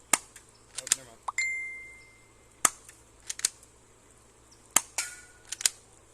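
Shots from a Cyma P.698+ spring airsoft pistol: a series of sharp, close snapping pops spread irregularly across the stretch, with one followed by a clear ringing metallic ding from a hit target.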